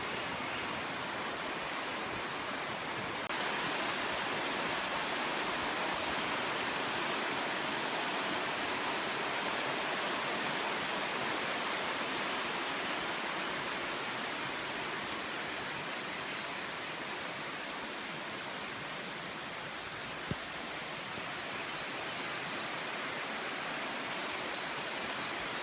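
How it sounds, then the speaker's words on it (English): River rapids rushing through a gorge, a loud, steady broadband roar of churning water that fills the whole stretch without pause. "We get better rapids down here."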